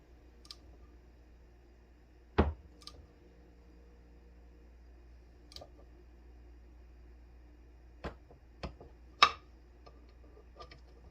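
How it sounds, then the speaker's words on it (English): A torque wrench tightens the connecting rod of a Predator 212 Hemi engine during a rebuild. Sparse sharp clicks stand out against a quiet background, one near the start and several in a cluster toward the end, with no voices. "now we're going to torque the rod"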